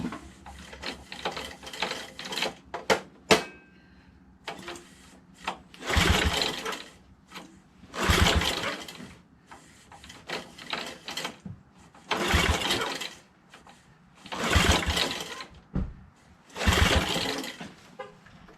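A Briggs 5HP engine on a Toro professional 3-gang reel lawnmower with a Pulsa Jet carburetor is cranked repeatedly, giving bursts of sputtering, ratcheting mechanical noise separated by pauses as it briefly catches but fails to keep running.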